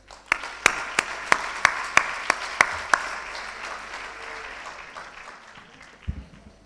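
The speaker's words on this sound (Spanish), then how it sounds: "Les pido, pues, que reciban con un cálido aplauso al padre Fermín" An audience at a national bioethics congress claps warmly to welcome a priest speaker; a few sharp, loud individual claps ring out at a steady beat over a broader wash of applause that gradually thins out.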